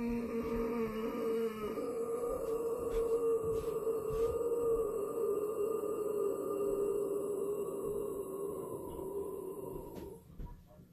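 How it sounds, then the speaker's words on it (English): A vocalist's low growl scream pushed from the bottom of the throat as a warm-up, one long sustained gritty tone held for about ten seconds, close and fairly quiet, fading at the end. "but I start the scream with a low growl"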